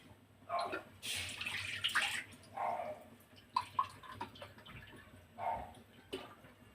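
Water poured from a glass into a cooking pot for drumstick-leaf curry, heard as several short, close splashing bursts separated by brief pauses, fairly quiet and without speech.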